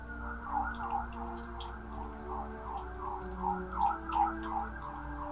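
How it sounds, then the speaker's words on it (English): Emergency vehicle sirens wail outside near a hospital, a steady rising-and-falling tone repeating over and over at moderate distance against a low background hum, with no talking. "Those sirens are hella loud."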